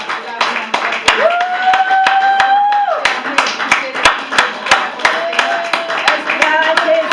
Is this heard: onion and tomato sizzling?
no